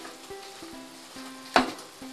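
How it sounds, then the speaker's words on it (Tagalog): Eggplant frying in hot oil gives a soft sizzle, broken by brief knocks of utensils or cookware and one sharp burst of spatter, close and without voices. "Pero bago ang lahat ay ipiprito muna natin ang talong."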